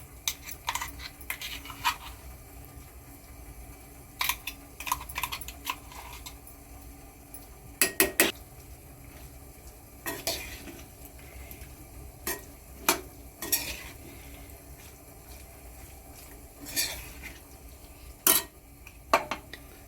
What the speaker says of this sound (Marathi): भाजी अशी चांगली व्यवस्थित मसाला टाकल्यानंतर व्यवस्थित चारी बाजूनी परतून घ्यायची